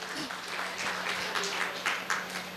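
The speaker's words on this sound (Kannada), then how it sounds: "ಆದರೂ ಒಂದು ಚಪ್ಪಾಳೆ, ಜೋರಾದ ಚಪ್ಪಾಳೆ" A live audience applauds at a Kannada community talk event, a steady wash of clapping filling the short stretch at moderate volume.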